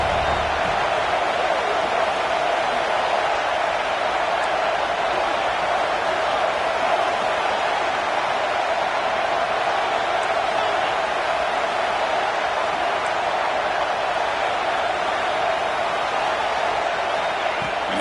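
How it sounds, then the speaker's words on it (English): Georgia vs Alabama college football crowd at the stadium, a steady, loud roar of cheering spread evenly throughout, a dense, continuous wash of noise with no pauses. "And the crowd coming to life here, trying to help this defense down in the red zone."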